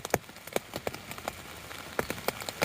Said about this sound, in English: that's rain on the tent still